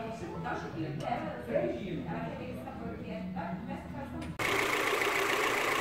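A Renault Clio engine idles steadily at close range after repair, with voices talking over it before the engine noise grows louder near the end.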